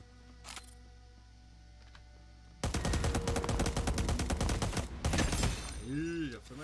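Rapid gunfire bursts in the Cyber Hunter video game, a dense volley of loud shots starting about a third of the way in and continuing with brief pauses, preceded by quieter game ambience and a few isolated clicks.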